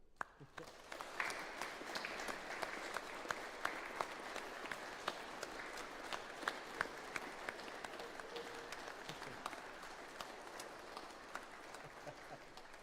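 Sustained applause from a sizable church congregation during a choral Holy Eucharist service, steady and even, with scattered individual claps standing out throughout.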